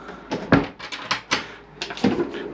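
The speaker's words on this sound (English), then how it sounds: "Drawers on this side. These are all soft close as well." Soft-close drawers in the galley of a 2017 Princess 52 yacht slide shut, giving a string of muted knocks and soft thuds at uneven intervals, close by and quiet with no talking.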